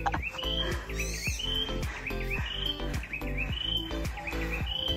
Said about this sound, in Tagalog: Wow, ganda ng tunog ng ibon.